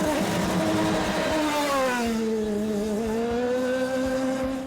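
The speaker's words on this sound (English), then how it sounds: "While the race car is out on the Toronto circuit" A Forsythe Racing Champ Car at speed on the Toronto street circuit during practice, its high-revving engine screaming loudly as it passes, then dropping in pitch and shifting gears as it pulls away.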